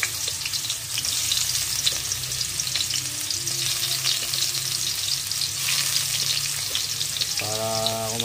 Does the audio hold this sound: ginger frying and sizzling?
yes